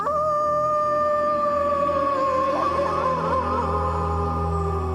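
A boy imitates a werewolf, sending one long, loud, wavering howl up toward the moon from a balcony in a Goosebumps episode, sustained steadily with no talk around it.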